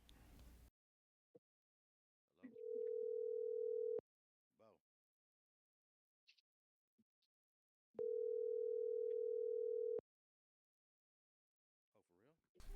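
Two long steady telephone ringback tones sound a few seconds apart with quiet gaps between, a faint voice murmuring in between.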